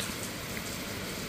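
Steady rain falls in Crimea in summer, a dense continuous hiss of drops on surfaces that holds at an even, moderate level throughout with no voices.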